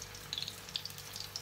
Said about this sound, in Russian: Я их буду жарить